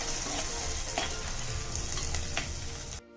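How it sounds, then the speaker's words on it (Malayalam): Onion, shallots and ginger sauté in a pan with a steady, close, even sizzle and a few soft stirring scrapes, then cut off abruptly near the end. "ഉള്ളി നന്നായിട്ട് വഴറ്റി കൊടുക്കുവാണ്"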